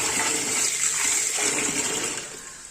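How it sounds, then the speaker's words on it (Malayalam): Water pours steadily into a pot after the earlier water is drained, a continuous splashing gush that holds close and loud before easing off at the end. "ഈ ഒരു വെള്ളം കളഞ്ഞിട്ട് കുറച്ച് വെള്ളം കൂടെ നമുക്ക് ഒഴിച്ചു കൊടുക്കാം."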